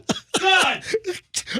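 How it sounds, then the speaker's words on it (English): Someone coughs a few times in short, close bursts in a studio, with voices chattering around the coughs. "Who's coughing?"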